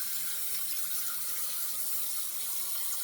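Tap water running steadily into a sink while shaving lather is rinsed off, a smooth continuous hiss of flowing water, close and even, with no voices.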